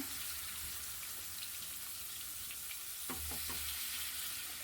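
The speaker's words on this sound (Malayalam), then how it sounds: "പാൻ ചൂടാകുമ്പോൾ വെളിച്ചെണ്ണ ഒഴിച്ചിട്ട് നന്നായിട്ട് പൊരിച്ചെടുക്കുകയാണ്" Food deep fries in coconut oil in a hot pan, a constant crackling sizzle close by, with a few brief bubbling bursts near the end and no talking.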